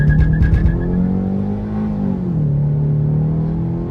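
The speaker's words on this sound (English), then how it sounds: "hold the brake pedal down, push the gas pedal to the floor" A 2017 Ford Focus engine, swapped from 1.0L to 2.0L, revs hard with the gas pedal floored against the brake, a loud steady drone that climbs, then settles to a lower held roar, close up with no talk.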